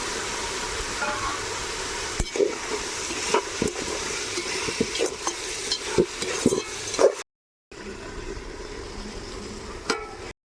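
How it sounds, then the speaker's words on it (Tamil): Coriander and mint leaves sauté in a pan with a steady sizzle, broken by irregular scraping and clinking stir strokes; the sound drops out briefly near the end before the sizzle resumes. "கொத்தமல்லி புதினா அதெல்லாம் நல்லா கட் பண்ணி வச்சுட்டு அள்ளி போட்டு நல்லா வதக்கிட்டு"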